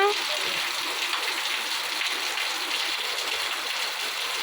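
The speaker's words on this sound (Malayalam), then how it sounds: "നല്ല ഒന്നാന്തരം മഴ പെയ്യുന്നു" Dense, even hiss of steady rain falling nearby, continuous throughout without pauses.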